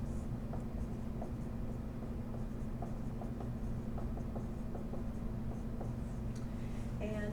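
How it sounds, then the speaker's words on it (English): An equation being written out by hand, heard as soft, faint scratching strokes in a steady rhythm over a constant low hum. "I'm going to write this on the next line here so I don't go off the screen here"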